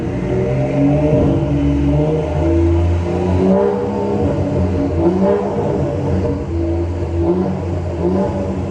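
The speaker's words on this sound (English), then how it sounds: "gonna rev this thing up slowly, stationary, just so you guys can hear it in the tunnel" A modified older BMW engine revs slowly while the car sits stationary in a tunnel, a loud, continuous, echoing drone that rises and falls through several swells, close up with no voices.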